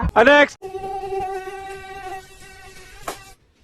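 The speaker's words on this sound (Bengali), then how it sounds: "শালার মশা শান্তি মতন ঘুমাতে দিল না" A mosquito's thin, steady whine drones for a few seconds close by, opening with a brief loud rustle and fading out near the end.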